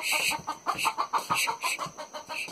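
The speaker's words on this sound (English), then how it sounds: "Come on, go chase this chicken away." A chicken clucks close by in short, quick bursts, a steady run of sharp little calls in a yard.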